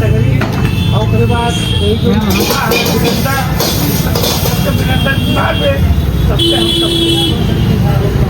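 Busy road traffic with cars, buses and trucks passing continuously, an occasional horn toot, loud and steady throughout, with people talking over it.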